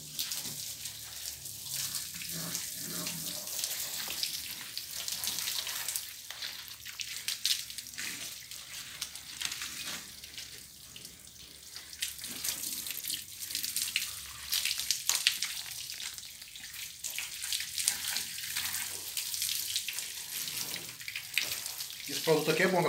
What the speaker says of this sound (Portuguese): Vou jogar água, galera.